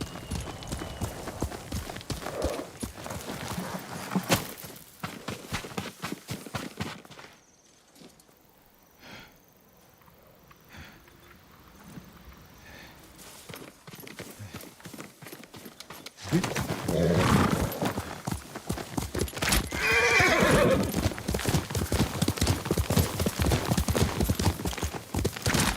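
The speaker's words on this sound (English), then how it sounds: "Yuriko's horse." Horse hooves clip-clop at a steady walk in the video game Ghost of Tsushima, with a neigh rising over the hoofbeats, fairly close and loud; a quieter stretch in the middle holds only faint ambience.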